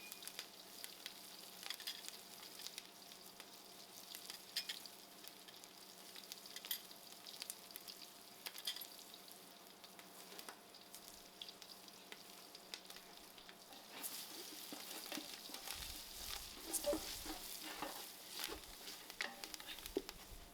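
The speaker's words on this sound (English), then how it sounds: "I'm going to add in all my masalas to the oil." Masala spices fry in oil over an outside fire, a quiet steady sizzle with light crackles and stirring taps, a little busier toward the end, and no one speaking.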